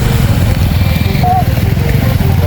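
A motorcycle engine drones steadily on a rough mountain trail near a Helambu waterfall, loud and close, with voices talking over it.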